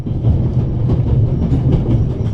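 A train rumbles steadily in The Raven: Legacy of the Master Thief, a loud, close, continuous low rolling drone heard from inside a passenger car bound through Switzerland near Zurich, with faint rhythmic clatter and no talking.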